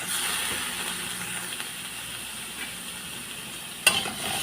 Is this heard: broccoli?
yes